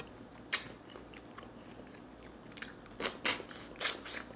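Someone chews and bites on a leftover neck bone at close range, a sharp crunch early on and then a cluster of wet, crunchy bites near the end over quiet room tone, no speech.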